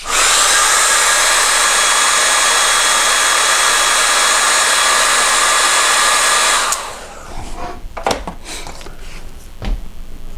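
A hair dryer blows a steady, loud whir over a watercolor painting for several seconds, then switches off, leaving a few faint clicks and handling knocks.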